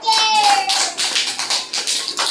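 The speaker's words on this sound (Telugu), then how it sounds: "క్లాస్ కొట్టండి." Children in an anganwadi classroom clap together in a brief run of rhythmic, close claps while a teacher's voice speaks over the start.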